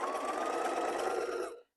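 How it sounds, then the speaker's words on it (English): A sewing machine runs a brief, steady burst while joining strips of flannel for a baby blanket. The whirring is close and even, then stops abruptly. "I just go ahead and sew it together"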